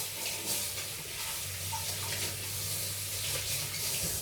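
Starchy water left from potatoes pours steadily down a kitchen sink, a continuous close splashing wash with no talk.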